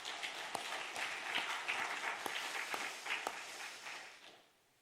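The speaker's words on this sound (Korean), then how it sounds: "우리 박수로 한번 격려하겠습니다." A church congregation gathered for a special dawn prayer service claps in encouragement. The applause is dense, with a few sharp individual claps standing out, and it holds steady for about four seconds before trailing off.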